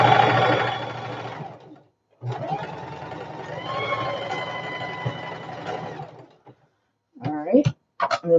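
A sewing machine zigzag-stitches around the whole perimeter of a diaper bag pocket, running in two long steady bursts of motor whir and needle clatter, then a pause and a few short stop-start runs close by.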